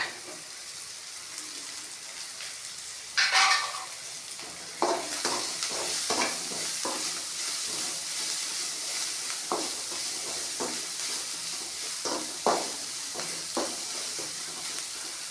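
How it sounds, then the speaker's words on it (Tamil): Drumstick leaves are sautéed in a pan, a steady close sizzle with repeated scraping stirs and louder knocks of the spoon against the pan, no voices. "நான் முதல்ல கீரையை வதக்கிக்கிறேன்"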